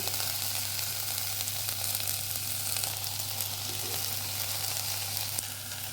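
Sliced potatoes and carrots sautéing in a pan for a Kerala vegetable stew, a dense continuous sizzle and crackle held at an even level throughout, close and without talk.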